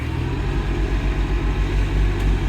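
The engine of a backhoe tractor idles steadily nearby, giving a continuous low, even rumble with a faint regular throb and no voices.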